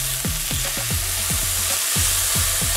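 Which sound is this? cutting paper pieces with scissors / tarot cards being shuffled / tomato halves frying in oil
tomato halves frying in oil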